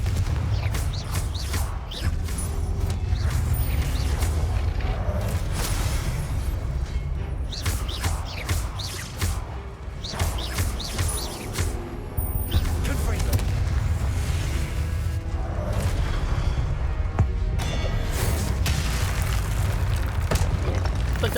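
Confringo blasting spell detonating in Hogwarts Legacy, a series of loud booming explosions and crackling impacts repeating over a dense, continuous game soundscape.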